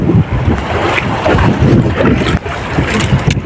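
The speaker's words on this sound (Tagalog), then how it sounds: "Oh, malakas yung amihan." Strong northeast monsoon wind (amihan) buffets a small boat at sea, roaring steadily with gusty swells and wave wash throughout, loud and close, with wind rumble on the microphone.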